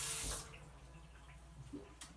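Warm water runs from a kitchen tap for bread dough, a steady close splashing stream that starts loud and then settles into a softer continuous flow with no voices.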